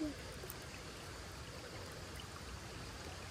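A stream flows in a steady, faint, continuous wash of water in a rural Nepali setting, with no distinct splashes.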